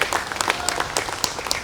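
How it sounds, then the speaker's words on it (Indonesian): Loud applause from a crowd at a Democratic Party anniversary gathering, honoring the party's senior figures: dense, steady clapping that fills the short moment close up, with no voices over it. "Oleh karena itu sekali lagi diberikan tepuk tangan yang sekeras-kerasnya kepada para senior kita."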